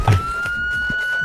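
A siren-style phone ringtone plays as a steady, continuous tone, loud and close, running unbroken through the whole moment with a brief noisy burst at the start.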